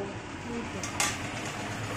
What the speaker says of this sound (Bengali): এদিকে আমাদের বড়া ভাজা হচ্ছে